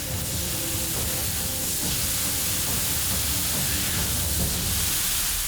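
Mochi and a ground-meat-and-onion batter sizzle on a hot griddle, a constant loud hiss with faint crackles running steadily throughout.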